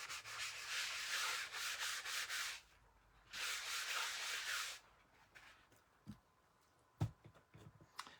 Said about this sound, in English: I'm going to take my chalk eraser, or my board eraser, and just go over it to make sure there's no chalk left